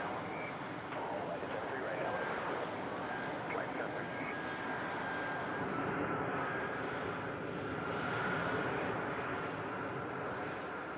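An F-35B jet aboard an aircraft carrier produces a loud, steady, broadband engine roar that fills the whole stretch without a break, close and heavy, with no distinct voices standing out.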